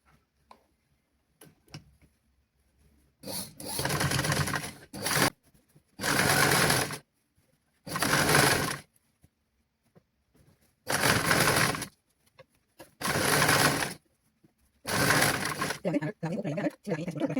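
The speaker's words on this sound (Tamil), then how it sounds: "1 சென்டிமீட்டர் அளவுக்கு நாங்கள் எடுத்துகிட்டு சுற்றி வர நாங்கள் தைச்சு கொண்டு வருவோம்" Sewing machine stitching around the hem of a small child's pants, running in six short bursts of rapid mechanical whirring separated by quiet pauses, close and clear.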